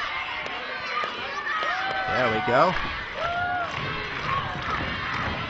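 Capacity crowd at a wrestling event, a steady roar of cheering and chatter with scattered shouts. A commentator talks over it and another voice calls out briefly.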